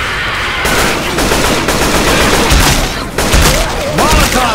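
In a Left 4 Dead 2 versus match, a grenade goes off amid dense, continuous gunfire: loud, near bursts of rapid shooting and booming blasts fill the whole stretch, with voices shouting underneath.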